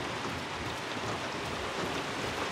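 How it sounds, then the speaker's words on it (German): Heavy rain in the video game Hunt: Showdown pours down as a dense, steady hiss, loud and continuous with no voices over it. "Oh, der Regen legt aber jetzt los"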